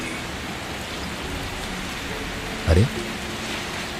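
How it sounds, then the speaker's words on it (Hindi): Rain falls at night in a village, a steady even hiss of drops throughout, broken briefly by a short low thump near the end; a voice gives a quick exclamation. "देखो ना, ये बारिश आज फिर से आ गई है"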